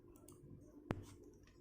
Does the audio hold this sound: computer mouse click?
yes